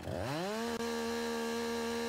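A chainsaw in the farming video game Landwirtschafts-Simulator 19 (LS19, on PS4) delimbs a felled tree. Its engine revs up quickly, then holds a loud, steady high whine alone for about two seconds.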